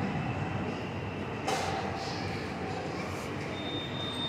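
A metro train at a station gives a continuous broad rumble, with a sharp hissing burst near the middle and a thin high whine toward the end.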